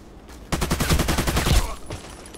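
Rapid machine gun fire in the Contract Wars shooter game: a dense, loud burst of quick shots that runs for just over a second, then cuts off.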